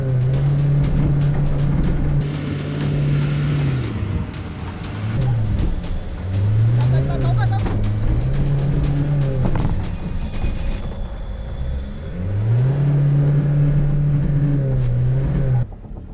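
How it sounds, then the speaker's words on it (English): An Isuzu 4x4 crawls through muddy ruts on an overlanding trail, its engine droning and rising and falling in repeated revs, loud and close throughout with no talking. "with no deflockers in the Isuzu, we found it a little challenging to crawl through the ruts"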